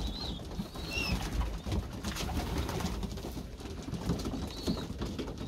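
Pigeons coo in a loft after being fed bread, a soft, continuous murmur of low calls with a few faint chirps above it.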